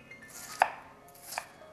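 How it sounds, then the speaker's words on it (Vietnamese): A knife chopping onion into small pieces on a board, two sharp separate knocks with a quiet pause between, close and clear with no talk. "Xắt lại nhỏ nhỏ lại như thế này."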